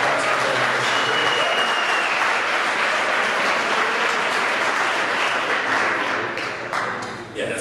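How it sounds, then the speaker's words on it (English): Applause from the audience at a boys' lacrosse season wrap-up banquet dinner, steady dense clapping for the team captains that holds strong throughout and thins slightly at the end. "So big round of applause for them"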